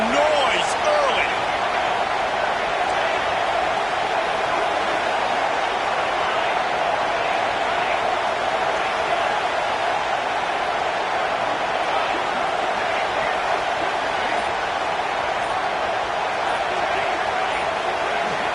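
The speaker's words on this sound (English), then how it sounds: "This crowd bringing the energy and noise early." Crowd noise fills the stadium at a football game, a steady, loud roar that holds throughout, with a commentator's voice and a few sharp thumps over it.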